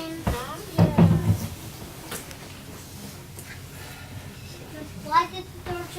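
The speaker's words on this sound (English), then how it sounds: "Why did the door just open?" A door of a 1947 car opening inside the vehicle, a short creak and clunk near the start followed by a louder latch burst around one second, with quiet cabin ambience afterward.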